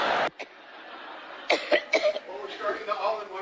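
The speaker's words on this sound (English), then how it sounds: "The coughing fits, which is yet another side effect of strokes." Coughing fit: a sharp cough burst at the start, then a cluster of rough coughs and throat-clearing sounds close by, fairly quiet overall.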